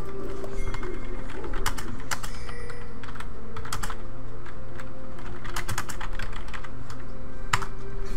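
Close, crisp keystrokes on a computer keyboard while playing League of Legends, coming in scattered bursts and short runs with pauses between, no voices over them.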